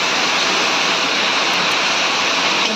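Water poured into a hot pan of frying spices (turmeric, salt, cumin and chilli powder) for a Bengali katla fish curry with long beans and potatoes gives a steady, loud hissing rush that runs unbroken throughout.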